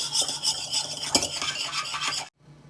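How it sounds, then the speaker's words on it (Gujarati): A spoon rasps against a bowl while citric acid, sugar and salt are stirred together for khaman batter, a steady gritty scraping with a few louder strokes that stops abruptly near the end, and no voices. "હવે આપણે સરસ મિક્સ કરીશું અને લીંબુના ફૂલ અને ખાંડ ને મીઠું ઓગળી જાય"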